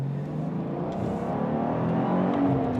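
Porsche Carrera GTS fitted with a Flat 6 Motorsports Stage 3 power kit pulls away smoothly off the clutch, the flat-six engine note rising steadily in pitch and loudness as it accelerates, heard from inside the car with no talking.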